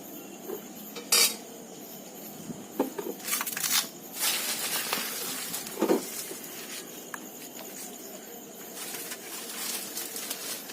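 Cooking utensils clatter and a wok is set down on a rooftop at night, with scattered close metallic clinks and knocks over a quiet background and faint bird cooing.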